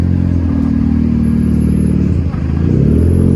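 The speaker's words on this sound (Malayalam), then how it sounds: "നല്ല അടിപൊളി സ്മൂത്ത് സൗണ്ട്. ഏതാ M5 തോന്നുന്നു കേട്ടോ." BMW M5 exhaust at a car meet in Abu Dhabi, a steady, smooth low drone with a brief dip near the end, surrounded by crowd chatter and other engine noise.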